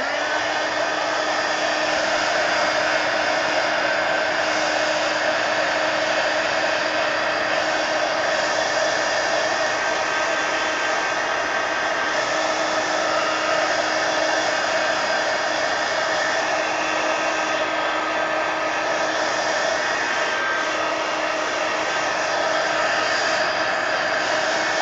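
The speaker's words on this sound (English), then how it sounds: "Let me dry it." Hair dryer blowing steadily to dry paint on a mixed media collage page in an altered book, a constant loud whooshing motor drone held close throughout, with no talking.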